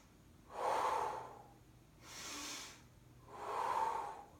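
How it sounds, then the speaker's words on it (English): Three slow, deep breaths during a hip stretch, each an audible close-up inhale or exhale that swells and fades over about a second, with quiet pauses between. "5 deep breaths."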